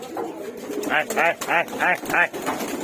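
Male pigeons coo in a rhythmic run of about five throaty, rolling calls, close and clear, over a steady background murmur.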